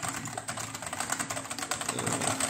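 Typing on a Cooler Master SK622 low-profile 60% Bluetooth mechanical keyboard, a rapid, even run of soft, muted key clacks, close and dry, with no voice over it.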